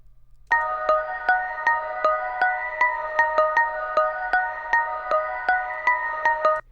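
A sustained tonal chord with regular swelling pulses, each rising smoothly and cutting off sharply at a hit, made with reversed reverb before every note; no voices.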